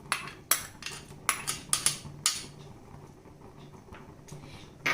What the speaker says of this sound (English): into this boiling water add this priorly washed and soaked rice, 1 cup of rice into the vessel